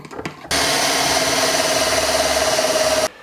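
An electric drill bores a pocket hole into a wooden board for a woodworking joint, running in one steady, loud whirring burst of about two and a half seconds, preceded by brief handling knocks.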